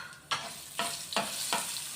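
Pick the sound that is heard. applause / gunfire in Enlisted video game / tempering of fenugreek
tempering of fenugreek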